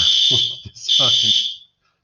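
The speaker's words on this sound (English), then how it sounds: "there's that fire alarm" A classroom fire alarm blares loudly and continuously, a steady high-pitched electronic tone with a brief dip, while a nearby voice talks over it before the alarm cuts off.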